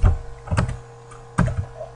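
Keys tapped on a home computer keyboard while zooming out of an Android app layout, a few loud close clicks in two short clusters over a steady electrical hum.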